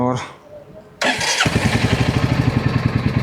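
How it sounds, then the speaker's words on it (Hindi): A motorcycle engine cranks and catches after a brief quiet pause, then settles into a close, steady, rhythmic idle thump, with a voice speaking at the start. "अब फटाफट अपनी बाइक करते हैं स्टार्ट"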